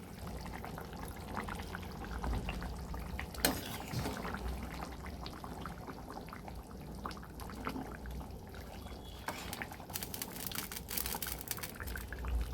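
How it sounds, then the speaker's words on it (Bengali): Fish is added to a vegetable curry simmering in a pan, a quiet bubbling and watery burble, with a few soft clinks and splashes over a low steady cooking noise. "তরকারি জাল হয়ে গিয়েছে, মাছ দিয়ে দিচ্ছি।"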